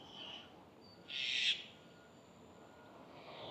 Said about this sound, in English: On top of the pole up there, a minor bird.